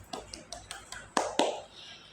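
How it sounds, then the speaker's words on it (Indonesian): A few handclaps close by at the end of a classroom lesson, about seven sharp claps in a steady, quick rhythm, the last two louder, with no talking. "Tepuk tangan untuk kita semua."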